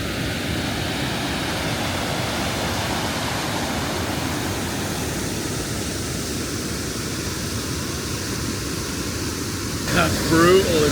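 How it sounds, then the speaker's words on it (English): A loud, fast-flowing waterfall in a salmon river, a dense, steady roar of rushing water filling the whole scene, with a brief rustle near the end. "I don't even know how well you can hear it because that waterfall is proper loud."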